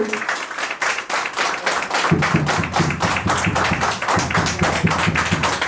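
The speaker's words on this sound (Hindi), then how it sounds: "एक बार तालियों में गड़गड़ाहट सुना दें उस प्रोडक्ट को" An audience at a product pre-launch event bursts into loud, dense applause, a steady roar of many hands clapping close by that continues throughout without any talk.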